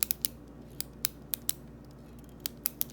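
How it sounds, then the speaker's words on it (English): Sharp, crisp clicks of a Sakura Ballsign retractable pen, a dozen or so snappy clicks in uneven bursts, close and clean against a quiet background. "Not a great pen by any measure, but just a really phenomenal click."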